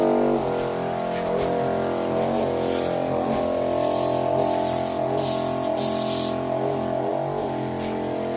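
Pest spray hisses steadily inside a multi-storey swiftlet nesting house, a continuous broad spray over a dense background of layered tonal chirps from swiftlet call playback, with no talk.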